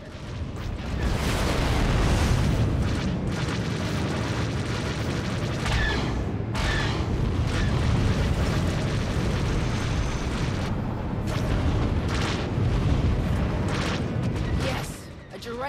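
Explosions rumble almost continuously in a space dogfight in SWTOR Galactic Starfighter at Star Forge Shipyards, with deep booms, bursts and crackling blasts rising and falling over about fifteen seconds, loud and close, as a destroyed target ship blows apart.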